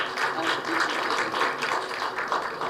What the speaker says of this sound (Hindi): एक बार जोरदार तालियां हो जाए यहाँ पे।